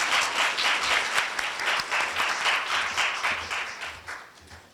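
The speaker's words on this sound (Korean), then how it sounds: "다 같이 뜨거운 박수로 환영해 주시기 바랍니다." An audience gives warm applause to welcome the university president to the lectern before a lecture at Korea University, with steady, dense clapping that fades slightly toward the end.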